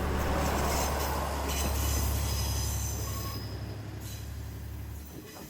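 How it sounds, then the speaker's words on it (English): A local train pulls away from Shingai Station, its wheels squealing on the rails in a loud, sustained metallic screech over a low rumble that begins to fade toward the end. "So now the local train can rejoin the main line and head on further south to Kochi."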